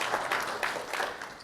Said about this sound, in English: I think people must clap for you.